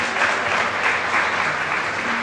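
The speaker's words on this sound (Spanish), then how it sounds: "un aplauso a mi querido Marcelino" Steady, dense applause from a church audience welcoming a volunteer on stage, an even wash of many hands clapping throughout with no voices.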